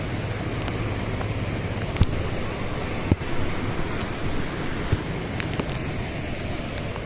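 Water rushing and flowing downhill at Lonavala in the rainy season, a steady broad roar with some wind buffeting and a few faint knocks, no voices.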